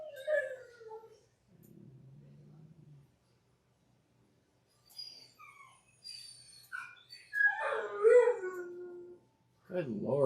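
A dog lets out a short howl and whimpering near a live sports memorabilia card break, in uneven bursts between quiet gaps, with someone talking nearby.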